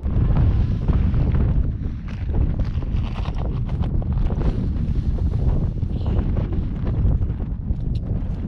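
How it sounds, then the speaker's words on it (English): Loud, continuous wind on the Mt Cautley summit buffets and rumbles against the microphone, a steady roar with no pauses. "It's windy up here."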